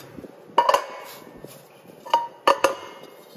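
A 4-liter cooking pot with a glass lid is handled, giving a few sharp metallic clinks and knocks in two clusters over quiet background.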